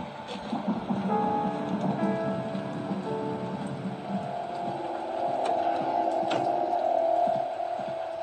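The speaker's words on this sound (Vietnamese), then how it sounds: "Trời đang mưa, mình sẽ vào trong ngôi nhà lấy chúng mưa." Steady rain falls in the 2D horror game Slendrina 2D, a dense continuous hiss with a low hum beneath, even and unbroken throughout with no voices.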